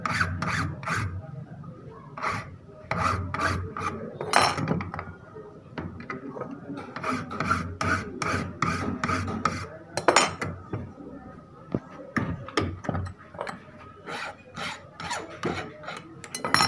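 A hand file rasps back and forth across the cut edge of a metal bracket from a small machine's boot lifter, giving steady repeated scraping strokes at close range with no talking.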